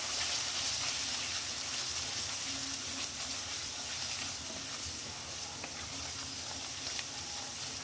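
Moth beans with salt sauté in a pan, giving a steady broadband sizzle and hiss that continues throughout with faint stirring ticks and some speech in the background.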